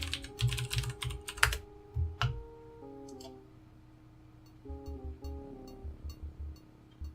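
Key presses on a computer keyboard entering commands in the King's Quest VI game, heard as several quick bursts of clicks alongside tonal game music.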